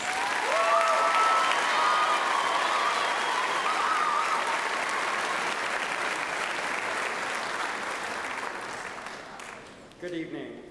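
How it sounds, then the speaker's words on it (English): At an eighth grade celebration, families and guests clap for the students in a steady, even round of applause that gradually thins and fades near the end as a voice begins. "Give them a round of applause."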